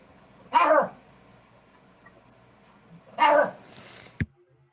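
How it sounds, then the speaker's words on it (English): A dog gives two loud barks or howling yelps a few seconds apart, followed by a sharp knock, with no talking over them. "That was just a really cool bark."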